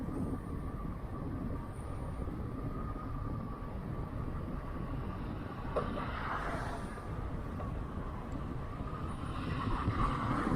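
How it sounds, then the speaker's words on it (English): Steady wind roars and buffets the microphone throughout a ride along the Seawall near Gastown, a broad continuous rumble with no talk. "Windy."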